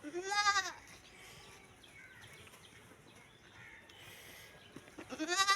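Goats on a goat farm bleat loudly and close by, one bleat at the start and another at the end, with a quieter stretch of soft farmyard noise and faint bird calls between them.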